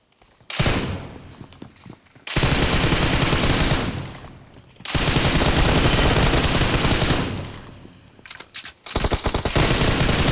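Rapid automatic gunfire from a video game firefight comes in long, loud, sustained bursts separated by brief pauses, close and dominant throughout.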